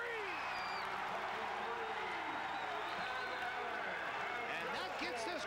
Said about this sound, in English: And that gets this crowd going here at Moody Coliseum.